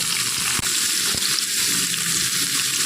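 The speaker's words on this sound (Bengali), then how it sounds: "চলুন ফুলকপিটা একটু লাল লাল করে ভাজা হোক" Cauliflower fries in a pan with a continuous close crackling sizzle, broken only by a couple of brief clicks and no talking.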